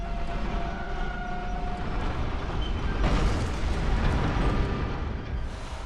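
A moving elevator in the video game Bloodborne gives off a steady, heavy mechanical rumble with a deep low-end drone, continuous and fairly loud throughout, with a slight swell near the middle.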